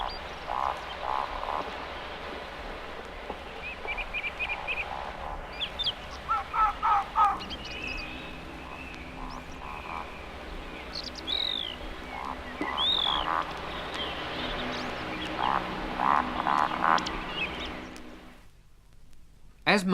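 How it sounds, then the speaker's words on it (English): In open woodland, a woodcock makes its roding display call, low croaking grunts followed by sharp squeaks, alongside a fox's staccato barks. The calls repeat at intervals over a soft background hum and end in a sudden hush. "the woodcock starts its slow owl-like display flight known as roding. It beats its way over or between the trees with a strange amphibian-like call"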